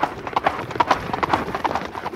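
A horse's hooves clip-clop in a steady trotting rhythm, close and fairly loud, in a French period drama about the Count of Monte Cristo.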